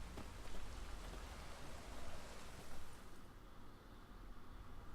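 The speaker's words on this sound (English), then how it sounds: "And it is raining." Steady rain falls in an outdoor scene of the video game Witcher 3, a continuous soft hiss of drops on surfaces at an even level for the whole stretch, with no voices over it.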